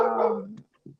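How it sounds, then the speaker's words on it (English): A dog gives a single drawn-out whimper close by, fading out, followed by a brief faint second whine. "Sorry about my dogs"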